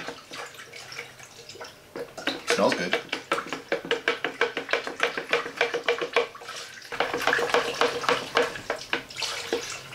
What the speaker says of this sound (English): So I'm just gonna give this some stirs.